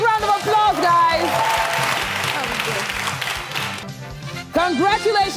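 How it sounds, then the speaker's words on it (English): Studio audience on a Nigerian family game show applauds loudly in a steady wash of clapping, while music plays throughout and briefly drops out before returning. "Can you give the Izumas a big round of applause, guys?"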